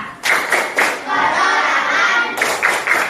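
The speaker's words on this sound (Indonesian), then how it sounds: "Oke siap, tepuk usaha." A class group claps a rhythmic chant-style pattern in unison, with several sharp clustered bursts at the start and end and a steadier stretch of claps in between, close and fairly loud.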